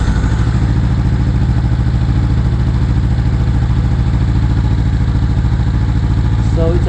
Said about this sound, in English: so let's start the bike